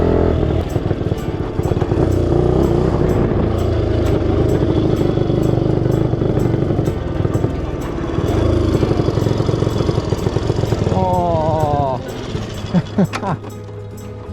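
A rare Honda motorcycle engine revs loudly and close, a continuous rough roar that holds for about twelve seconds before dropping off, with a brief voice near the end.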